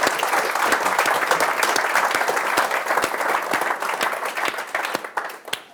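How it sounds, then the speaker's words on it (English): Sustained applause from a conference audience for panelists, dense clapping filling the room at steady loudness before tapering slightly at the end. "So a round of applause for our panelists, please."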